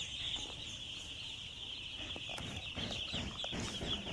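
Four-day-old broiler chicks in a poultry shed keep up a dense, continuous chorus of high peeping, with some scattered bumps and shuffles beneath.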